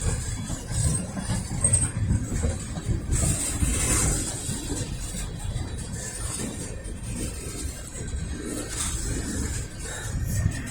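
A long Norfolk Southern freight train leaves a rail yard eastbound, its cars rolling steadily past with a low, continuous rumble and faint wheel clatter at moderate distance; no one speaks.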